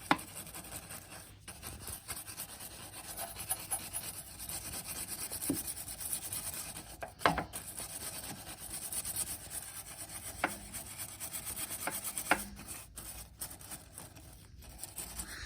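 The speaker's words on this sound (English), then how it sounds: "then you can give it a nice scrub. Just get a normal brush like this." A normal bristle brush scrubs the chrome suspension and coil spring of a Harley Davidson motorcycle, giving a steady close rasping rub with irregular strokes and a few sharper scrapes, with no talking.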